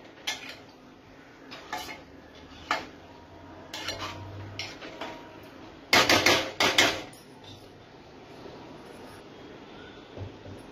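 A metal spoon clinks and scrapes against a pan while paneer masala is gently stirred: scattered light taps, then a brief cluster of louder knocks in the middle, close by with no talking.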